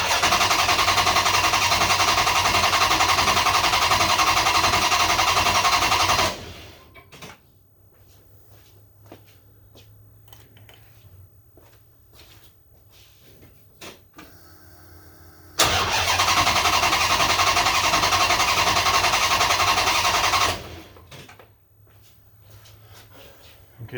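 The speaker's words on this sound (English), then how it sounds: "So now I'm just going to crank it over and hopefully get some oil cycled through." A 6.1 HEMI V8 swapped into a 1970 Dodge Coronet being cranked over by the starter without firing: two loud, steady whirring cranking bursts of about six seconds each, separated by quiet with faint clicks and handling noises.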